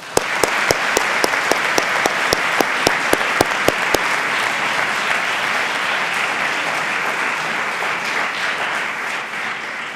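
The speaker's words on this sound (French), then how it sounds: "Mesdames, Messieurs, j'aimerais que vous les applaudissiez." A theatre audience applauds contestants at the final of a lawyers' speaking contest in Montpellier, loud sustained clapping filling the hall, with a few sharp individual claps standing out over the first seconds.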